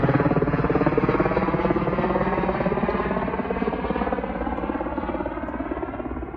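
A helicopter glides in autorotation after a simulated power failure, its rotor thumping in a steady, rapid rhythm that stays loud and close throughout and fades slightly toward the end, with no talk.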